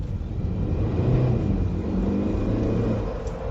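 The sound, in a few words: hybrid car accelerating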